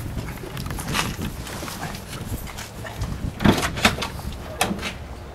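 An RV door opens on a Jayco Seismic 4113 toy hauler, with a cluster of clunks and knocks partway through over a low, busy background.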